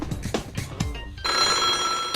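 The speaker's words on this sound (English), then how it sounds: "from out of nowhere, we can hear a phone bell" A telephone bell rings in the video game Kirigiri Sou, a loud, sustained metallic ringing that begins after a few low thumps and continues steadily to the end.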